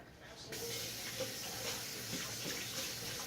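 A kitchen sink tap runs steadily as hands are washed beneath it, a close, continuous rush of water with faint splashes and clatters throughout.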